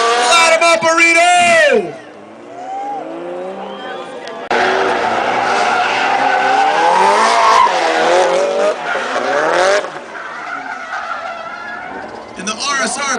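Drift cars at Atlanta Motor Speedway during NOPI Nationals Drifting 2005 let out long, loud tire squeals and engine roars in overlapping bursts, with crowd and announcer voices mixed in.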